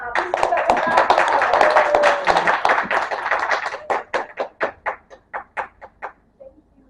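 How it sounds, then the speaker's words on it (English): Audience at a Toastmasters club meeting gives a round of applause: dense, close clapping for about four seconds that thins into a few scattered, fading individual claps. "give a big hand to our general evaluator for the night, Toastmaster Deborah"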